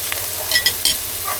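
Food sizzling and frying in a pan on a Kings 2000W induction cooker, with a steady crackle and a few sharper scraping stirs, close and fairly loud, and no talking.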